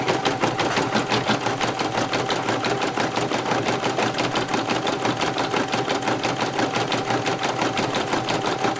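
A Brother embroidery machine stitches out a marine vinyl keyfob, its needle hammering in a fast, steady mechanical rhythm with a constant whirring hum, loud and close with no pauses and no talking.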